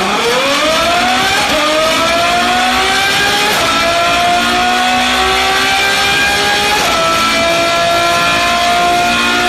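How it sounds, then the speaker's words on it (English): A Ferrari F12 screams loudly on a dyno, its engine climbing steadily in pitch through several long rising pulls with brief shift breaks, continuous and close. "Ferrari F12."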